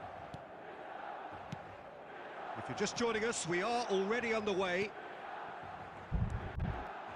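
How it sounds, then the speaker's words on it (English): Stadium crowd noise at the San Siro in the eFootball 25 mobile football game, a steady broad roar with a louder swell of chanting in the middle, running under a commentator's voice throughout. "Red and black wherever you turn, the San Siro is buzzing."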